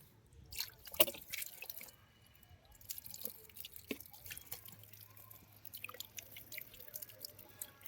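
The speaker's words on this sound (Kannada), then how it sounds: "ಇವಾಗ ನೆಟ್ಟಿರೋ ಗಿಡಗಳಿಗೆಲ್ಲ ಸ್ವಲ್ಪ ಸ್ವಲ್ಪ ನೀರು ಹಾಕ್ತಾ ಇದ್ದೀವಿ" Water poured onto newly planted terrace-garden plants drips and trickles onto leaves and soil, with scattered soft drops and splashes at an irregular pace, quiet and close, no voices.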